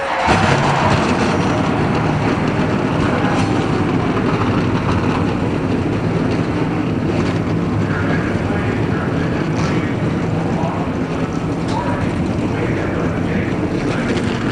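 A field of NASCAR Busch Series stock cars at Darlington for the 2004 Diamond Hill Plywood 200 fires up into a dense, continuous engine roar that stays loud and unbroken throughout, with rough, windy texture and no clear gaps.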